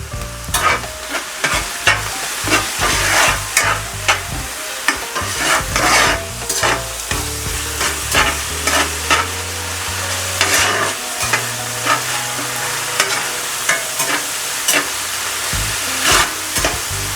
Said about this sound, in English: We're going to give this a quick mix.